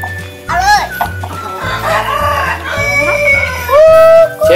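Chickens cluck and squawk up close beside a homemade chicken trap, with sharp rising calls scattered over a steady background hum. Someone talks throughout.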